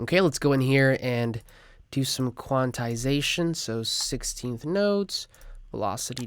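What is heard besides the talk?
None of the usual background noises is heard.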